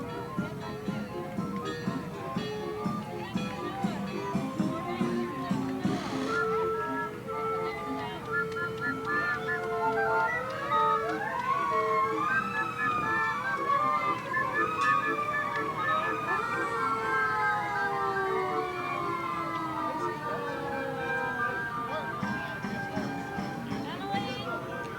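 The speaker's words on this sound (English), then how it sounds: "And here's the calliope." Steam calliope playing in a 1994 parade, a bright whistling tune of gliding, stepped pitches running steadily throughout alongside crowd and street noise.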